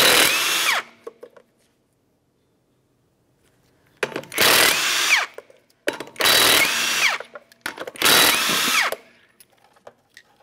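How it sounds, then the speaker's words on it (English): Power tool whirs loosening 19mm lug nuts on a 1994-1997 Honda Accord wheel, with one short burst followed after a pause by three loud, close bursts of rising and falling whine. "Remove all 4 of your 19mm lug nuts,"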